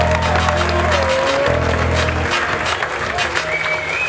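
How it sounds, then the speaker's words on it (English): Crowd at a chessboxing event applauds the two fighters, a continuous loud wash of clapping heard together with sustained musical tones and a few crowd sounds. "Vous pouvez déjà applaudir nos deux combattants, s'il vous plaît,"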